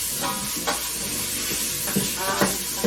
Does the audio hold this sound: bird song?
no